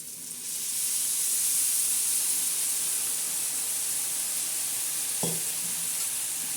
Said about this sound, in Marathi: आता याच्यामध्ये आपण पाणी सोडणार आहोत